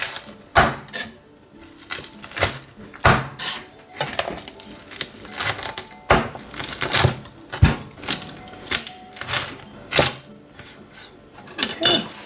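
A knife crunches through crispy pork belly cooked in a Ninja Foodi, giving repeated sharp crackling cuts and knocks against a board in irregular bursts, close and fairly loud.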